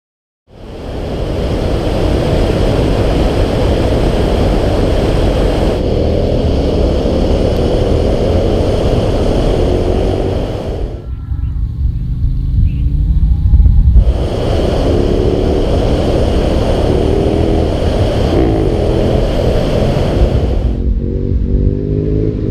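KTM 1190R adventure motorcycle ridden through the bush, its engine droning loud and close with surges and revving, a brief drop-off midway before the throttle comes back strong.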